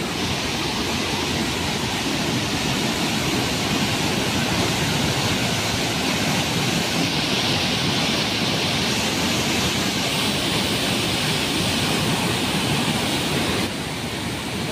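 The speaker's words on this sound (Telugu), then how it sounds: "చాలా ఎక్కువ వాటర్ అయితే వచ్చేస్తున్నాయి." Kothapalli waterfall in monsoon flood, a heavy torrent roaring in a dense, unbroken wash of white noise, loud and close for the whole stretch.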